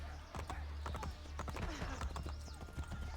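A horse ridden through the streets in the video game Assassin's Creed Brotherhood gives a steady, close clip-clop of hooves at a brisk trot for the whole stretch, with no talk over it.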